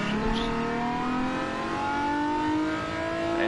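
A naturally aspirated race car in a racing video game, its engine pitch sweeping as it shifts, a continuous close mechanical drone heard alone.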